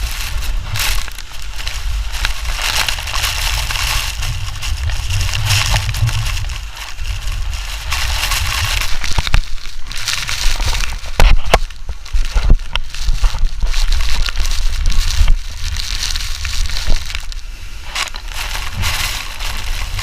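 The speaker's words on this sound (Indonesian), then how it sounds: "suara dari gemericik air terjun yang mengenai kamera" Dense, roaring wash of waterfall water splashing close against the microphone at Grojogan Sewu, a continuous rough hiss with crackling bursts and no voices.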